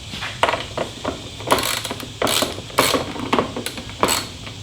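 A ratchet wrench works on the windshield bolts of a Harley motorcycle with close, repeated clicking bursts in an uneven rhythm and short pauses between strokes.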